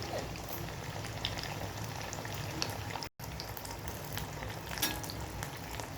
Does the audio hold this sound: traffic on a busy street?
no